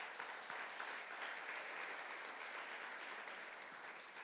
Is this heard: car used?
no